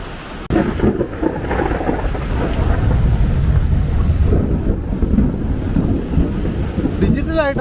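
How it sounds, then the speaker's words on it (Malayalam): Thunder rumbles through a rainstorm at a home in Kerala, a loud, sustained low roar with wind buffeting the microphone and steady rain beneath. "ഡിജിറ്റലായിട്ടാണല്ലോ ഇടി വെട്ടുന്നത്"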